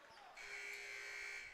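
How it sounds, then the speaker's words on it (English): An inadvertent buzzer sounds at a high school boys basketball game, Marysville-Pilchuck at Everett, a steady electronic tone lasting over a second amid the gym's crowd and court noise. "Inadvertent buzzer there as Steve Landreau, the official,"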